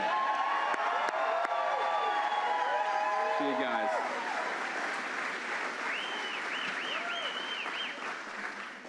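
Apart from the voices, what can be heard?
applause for John Featherson and Steve Robinson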